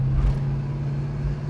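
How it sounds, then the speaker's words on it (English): Chevrolet Chevelle on a mechanic's test drive, heard as a steady low engine drone of a car on the road ahead, loud and continuous with no talk. "That Chevelle in front of us is one of the mechanics out test driving."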